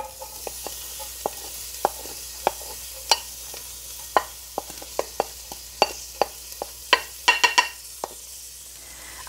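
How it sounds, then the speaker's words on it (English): Garlic and cilantro sauteing in warmed olive oil in a soup pot give a faint, steady sizzle, with sharp, irregular clicks and taps of stirring scattered on top. "When the olive oil has warmed up, add your garlic and your cilantro."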